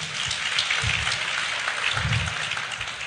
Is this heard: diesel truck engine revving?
no